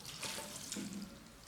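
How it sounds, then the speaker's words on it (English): Ramen noodles and their water are poured into a bowl, a brief, soft liquid splash and trickle heard close up and quietly, without voices. "Pour noodles into bowl."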